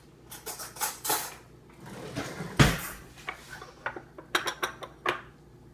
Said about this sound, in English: I'm going to grab a spoon.